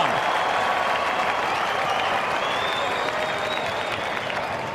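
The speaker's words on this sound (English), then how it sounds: "And the crowd roar again for a rare time." A packed AFL stadium crowd roars and claps during a 2013 GWS Giants versus Port Adelaide match, a loud, sustained wash of cheering that slowly fades toward the end.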